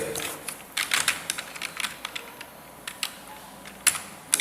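Keys are tapped on a computer keyboard in short, irregular bursts of crisp clicks, close and clear, with no voice over them.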